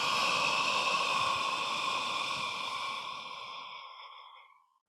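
One long, deep breath is drawn and slowly released during a guided meditation, a steady airy rush that fades gradually over about four seconds into silence.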